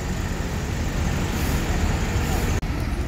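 Hino RM 280 bus engine running at a steady, loud drone amid roadway traffic noise, with one brief dropout near the end.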